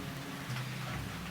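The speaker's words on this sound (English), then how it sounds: "Coming out of the rain." Steady rain hisses throughout a radio drama scene, a continuous dense wash of drops at moderate level with no talk over it.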